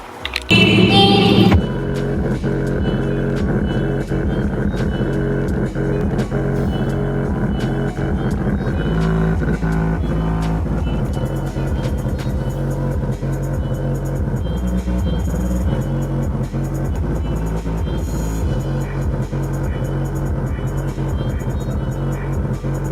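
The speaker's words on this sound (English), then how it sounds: "let's go ahead and fire it up and kind of show you a little demonstration, kind of give you some bass tests" A car audio system in a Chevy Tahoe pumps heavy, booming bass with a pulsing beat, loud and sustained, the deep thumps rattling steadily for the whole stretch after a brief opening burst.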